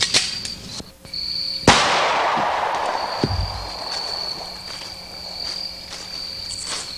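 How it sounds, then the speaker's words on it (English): A single sharp gunshot from a full metal jacket load fired into a landscape timber, loud and close, with a decaying ring afterward over a steady insect-like background hum. "let's shoot the landscape timber and see what happens"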